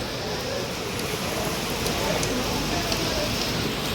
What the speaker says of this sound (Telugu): వర్షం చూడండి